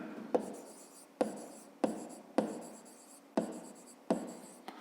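A pen writes a math solution on paper in a series of short, close, quiet scratching strokes, each starting with a tap and trailing off, about one every second.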